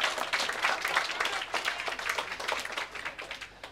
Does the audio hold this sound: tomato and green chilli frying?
no